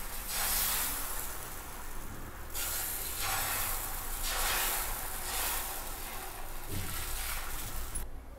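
Dosa batter poured onto a hot tawa sizzles in loud hissing bursts that swell and fade in several waves, close up, with no talking.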